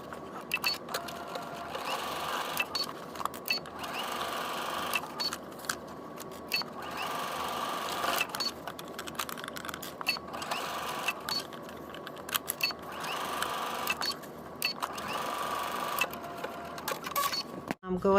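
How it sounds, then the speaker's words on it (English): A home sewing machine runs in bursts while stitching a fabric seam, with pauses between runs, and someone talks over the machine throughout. "you can take it to the machine and stitch it"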